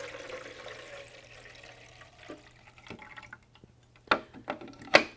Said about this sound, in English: what we're going to do is add 1/3 of the reservoir full of white vinegar